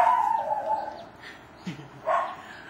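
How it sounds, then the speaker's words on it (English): Puppies give a few high yips and whimpering cries, close and fairly loud, in short irregular bursts with small pauses between them. "Oh, we got puppies."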